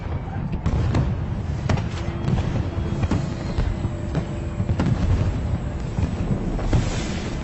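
Fireworks exploding in an animated scene, a continuous rumbling barrage of booms and sharp pops over a dense low roar.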